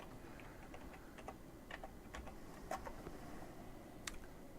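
Coordinates are tapped out on a computer keyboard in a quiet room, a faint, uneven string of light clicks spread over several seconds.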